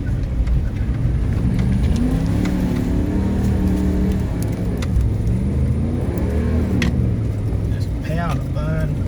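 Ram 1500 pickup in high range ploughing through soft river sand with tyres at about 35 PSI, a steady loud engine drone with rising and falling revs, voices talking over it throughout.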